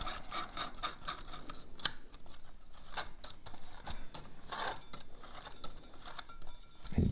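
Flange nut being tightened on a Pharos coffee grinder, with quiet metallic rubbing and scraping in short repeated strokes and one sharp click, close and faint with no talking.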